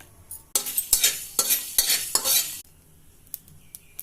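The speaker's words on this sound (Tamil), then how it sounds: "கடுகு பொரிய ஆரம்பிச்சிடுச்சு." Mustard seeds crackle and pop in a hot pan without oil, a dense bursty sputtering for a couple of seconds, then a few scattered pops as it quiets.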